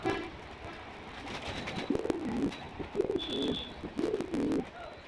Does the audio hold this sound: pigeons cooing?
yes